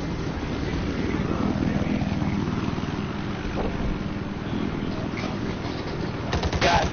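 Rapid bursts of machine gun fire in a combat video game set in a flooded zone, steady and loud throughout, with aircraft or rotor noise and scattered impacts layered underneath.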